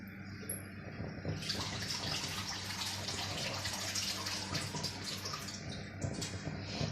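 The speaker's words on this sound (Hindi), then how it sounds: "हम अपना 4 गिलास पानी जो है वो डालेंगे" Four glasses of water poured into a cooking pot for plum chutney, a continuous close splashing gush of running water that grows fuller partway through and keeps flowing to the end.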